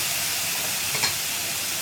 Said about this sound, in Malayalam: പപ്പടം വറുത്തെടുത്ത എണ്ണയിലേക്കാണ് ഞാനിപ്പോൾ ഉള്ളി ഇട്ടിട്ടുള്ളത്.